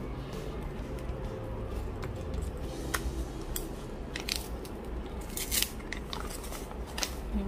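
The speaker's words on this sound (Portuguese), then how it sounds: "Vou pegar uma tesoura, já vou fazer um piquezinho aqui" Scissors snip into a plastic vacuum sealer bag close up, a run of short crisp cuts and clicks with no one talking.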